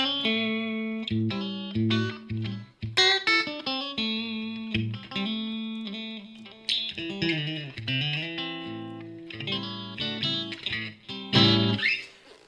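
A Maybury electric guitar plays through a lightly boosted overdrive tone, ringing chords and single-note phrases with sustained, slightly distorted decay, loud and close with no talking.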